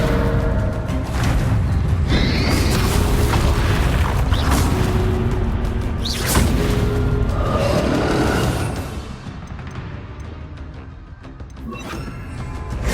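A spell-casting battle at Hogwarts Castle in Hogwarts Legacy plays out as loud, dense magical blasts, booms and crackling bursts, with whooshing impacts that thin toward the end.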